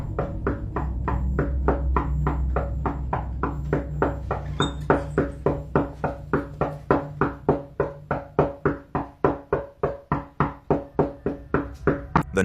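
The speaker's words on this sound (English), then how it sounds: "The knocking grew clearer with every step until he stood directly in front of a tall cupboard" Steady, rhythmic knocking sounds from behind a tall cupboard inside a house. The knocks come as a long, even series of sharp raps at a regular pace, fairly loud and close, with no voices.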